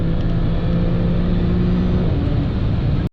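Audi B8 S4 accelerating hard with wheel spin, a loud, dense, steady roar from close inside the car, holding level for about three seconds before cutting off abruptly.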